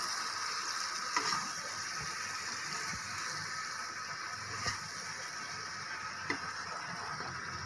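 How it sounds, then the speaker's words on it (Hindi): Eggplant and potato curry with spices frying steadily in a pan, a continuous broadband sizzle with a few soft clicks and scrapes of stirring, close and alone without talk. "अब हम इसे जरा अच्छे से मिक्स कर देंगे ताकि मसाला पूरा मिक्स हो जाए।"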